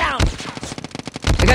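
Rapid gunfire from a Call of Duty match: loud, close bursts of shots in an uneven rhythm, with a heavy blast at the start and another near the end.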